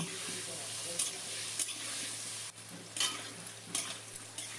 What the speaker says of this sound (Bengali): হলুদ গুঁড়োটা দিয়ে আলুটা ভেজে নেব